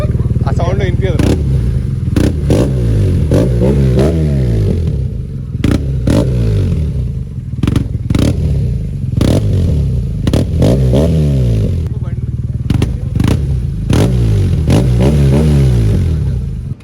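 Modified BMW R nineT motorcycle engine revved repeatedly, loud close blips rising and falling in quick succession over a steady idle, with people talking over it.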